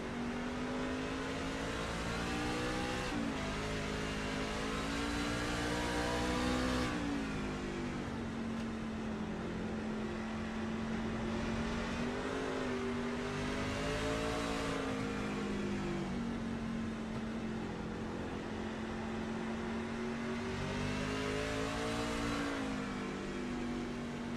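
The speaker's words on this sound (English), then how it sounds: "listen to the throttle management that Blair is having to do on this truck" A racing truck's engine revs hard through a lap of Lime Rock Park, steady high-pitched drone with throttle lifts and surges, continuous and loud with no talk.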